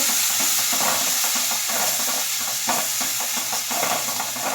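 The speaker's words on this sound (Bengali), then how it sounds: "এরপরে আমি দেবো পোস্ত বাটা। দিয়ে ভালো করে এটা আমি কষবো, এভাবে মিশিয়ে নেব।" Mixed vegetables and paneer sizzle steadily in a pan while poppy seed paste is stirred through, a constant close hiss of frying with faint scraping strokes of the spatula and no talking.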